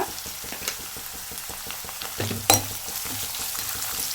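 Onions frying in oil in a pan with salt added, giving a steady low sizzle with soft scraping stirs and a sharper clink of a spoon against the pan partway through, with no voices.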